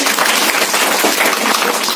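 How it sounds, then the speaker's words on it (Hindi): Loud, dense clapping from a studio audience at a children's quiz show greets a correct answer, a steady close burst of many hands lasting throughout with no talk over it. "जोरदार ताली दीजिए"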